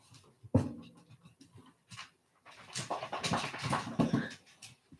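Dogs whimper and pant close by in a quiet indoor room, making soft, uneven bursts of whining and breathing with short pauses, growing busier toward the end.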